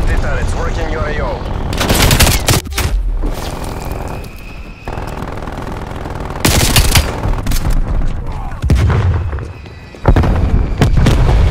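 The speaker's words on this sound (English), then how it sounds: "Multiple hostile sentry turrets working your AO." Bursts of sentry turret gunfire and explosions ring out in a Call of Duty: Black Ops Cold War match, with several loud volleys and booms separated by short lulls, heard alone without talk.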